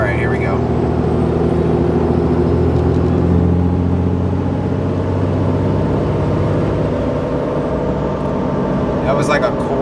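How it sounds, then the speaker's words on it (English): The loud tires of a truck rolling on the road give a steady, heavy roar with a deep engine hum throughout, while someone talks over it. "I get it, the tires are loud."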